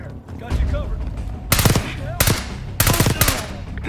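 Cutscene gunfire from Call of Duty: Black Ops 6, loud bursts of automatic fire in three clustered volleys over a low rumbling background, with faint voices mixed in.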